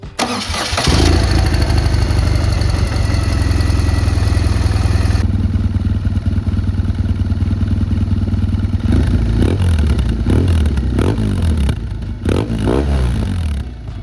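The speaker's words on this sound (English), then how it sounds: "This motor right now is quieter than my 2016 BMW F800 GT by a long shot." A 2005 BMW R 1200 GS motorcycle with very high mileage starts up and settles into a steady, close, even idle, with a few blips and clatter near the end.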